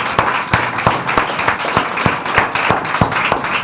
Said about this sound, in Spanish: Denle un aplauso al hermano Carlos